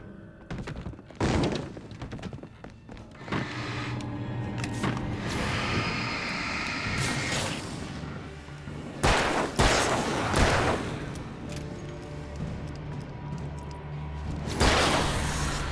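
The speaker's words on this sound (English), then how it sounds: "Flashbangs!" Flashbang grenades go off in Alan Wake, several sharp loud bangs and thuds scattered among rumbling game effects and noise, one burst after another over a continuous backdrop.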